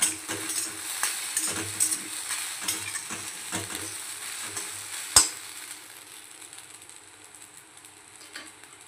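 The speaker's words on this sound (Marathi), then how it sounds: "साबुदाणा पूर्णतः मंद गॅसवरच होऊ द्यायचा आहे आपल्याला" Sabudana cooks in a pan over low heat, rhythmic scraping strokes of a spoon stirring it against the metal under a soft sizzle, with one sharp clink midway before the stirring fades quieter.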